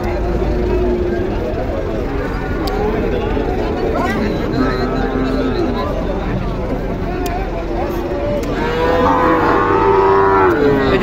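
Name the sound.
cross-breed cow mooing at cattle market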